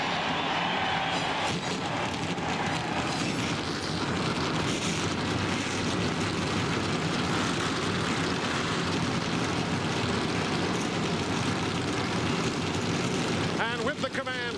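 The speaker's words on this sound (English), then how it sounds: "Gentlemen, start those engines." Many NASCAR Winston Cup stock car engines start at Dover Downs International Speedway for the 2000 MBNA Platinum 400, building a dense, continuous roar that fills the air loudly and steadily throughout.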